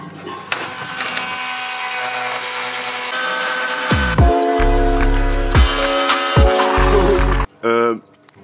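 A handsaw cuts through wood on a large hut build, with a long stretch of rasping strokes that gives way to heavy, rhythmic back-and-forth sawing near the end.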